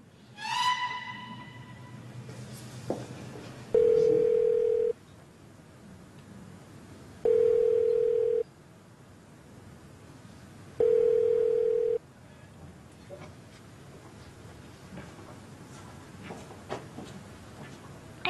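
Three long flat telephone tones repeat at even intervals after a short burst of sound, each lasting about a second, with quiet gaps between, heard when a call reaches a phone that is switched off; no talk.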